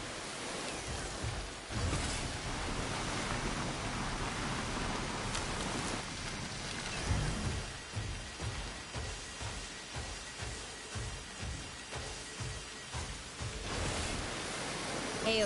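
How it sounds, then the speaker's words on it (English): Rainfall in the video game Synduality Echoes of Ada, a continuous wash of hiss with a series of soft, regular low thumps running beneath it in the second half. "Precipitation levels rising."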